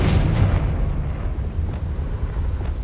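A Confringo explosion spell in the video game Hogwarts Legacy lands with a heavy, loud boom at the start, then rumbles and decays into a low, rolling tail.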